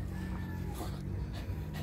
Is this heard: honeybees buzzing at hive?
no